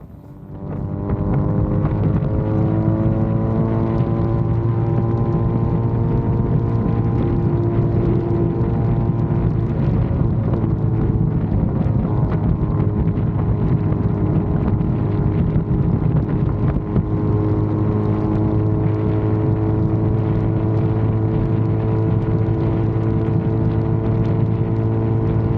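A Benelli 502C motorcycle cruising along a road, with a steady, loud engine drone and strong wind rush held the whole time and no change in pace.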